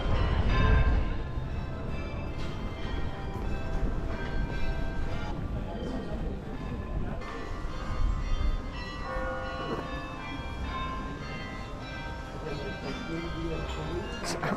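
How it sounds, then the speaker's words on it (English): Bells ring out a melody in the distance in Bruges, steady and layered, under a continuous rumbling background. "It's absolutely lovely hearing the bells playing tunes in the background."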